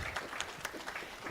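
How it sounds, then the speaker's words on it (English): Brief burst of scattered hand clapping from an audience, fairly faint and short. "A round of applause for her."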